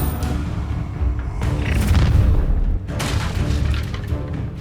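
A heavy booming fire-spell blast from Incendio in Hogwarts Legacy surges loud and close, with thumping impacts and a crackling rush that continues after a brief break.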